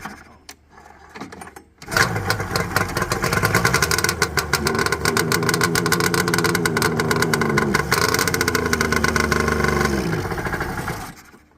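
A Ski-Doo XCR600 snowmobile engine, fitted after a motor swap, cranks after a short quiet stretch, then catches and runs loud and rough with rising and falling revs for several seconds before choking out and dying.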